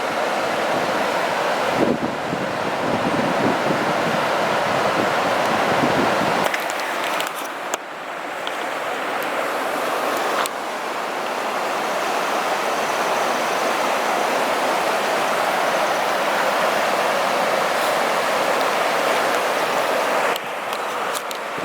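Steady broadband rush of a river flowing at the University of Limerick in Ireland, continuous and fairly loud with wind buffeting the microphone, a brief dip near the middle and no talking.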